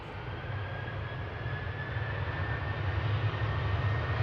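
A KLM airliner bound for Amsterdam at Manchester Airport gives off a steady, distant engine rumble that holds even and low throughout, with a faint whine running above it and no voices.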